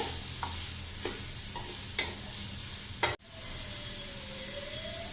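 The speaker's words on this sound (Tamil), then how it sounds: "உப்பு சேர்த்துட்டு ஒரு டைம் நல்லா கலந்து விட்டுடலாங்க" Salted cabbage fried rice frying in a pan while being stirred, with a steady sizzle and several sharp scraping strokes of the spoon, ending in one louder clank and a quieter sizzle.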